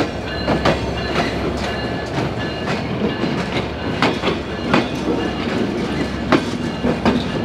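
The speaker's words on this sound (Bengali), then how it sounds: "এই যে ট্রেন," A train at Khulna railway station rolls past close by, its wheels giving a steady clickety-clack over the rail joints with a continuous rumble underneath.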